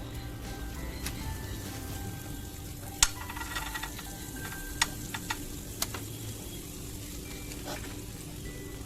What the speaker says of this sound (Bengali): একটু বাটারটা জাস্ট গরম করে নেব